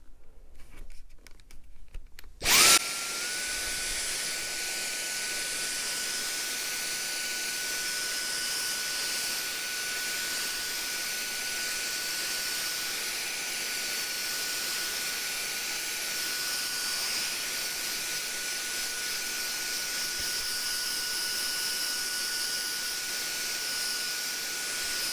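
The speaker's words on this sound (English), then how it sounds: "you could just vacuum all this out, and that's what I'm going to do right now. We're going to be using my Dyson DC35" A Dyson DC35 vacuum starts abruptly after a few seconds of handling noise, then runs with a steady whining hiss and a constant high tone, close and unbroken.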